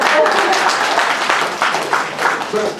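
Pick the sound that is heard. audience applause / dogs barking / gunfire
audience applause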